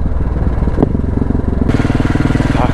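A pink KTM 690 Enduro single-cylinder motorcycle engine thumps steadily and loudly up close while riding through Belgrade, with a slight change in pitch partway through and no talk.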